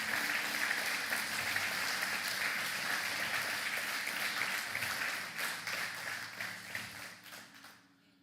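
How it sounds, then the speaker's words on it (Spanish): A church congregation breaks into sustained, crowded applause that holds steady and then thins out and fades to silence near the end. "Dele fuerte ese aplauso a nuestro Dios."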